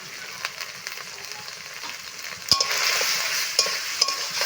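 Spices with salt and turmeric and potatoes being stirred in a pan for a village-style fish curry give a soft, continuous sizzle with scraping spoon strokes, louder after a sharp clatter midway.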